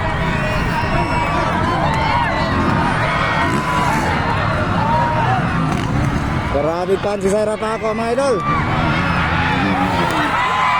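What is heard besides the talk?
crowd shouting and cheering for a motocross rider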